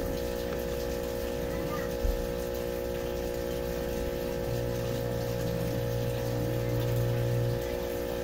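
A pump or running water churns steadily while the water in a mineral-water tub holding fish fry is changed, with a constant mechanical hum and a brief bump partway through.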